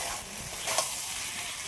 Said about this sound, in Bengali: এবার আমি এই ভেজে রাখা আলুটা এর মধ্যে দিয়ে দেবো, দিয়ে আবারও একটু ভালো করে কষিয়ে নেব।